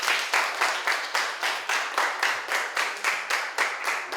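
A class of children clapping in unison in a classroom, a steady rhythmic beat of about twenty sharp claps, close and loud with no talk.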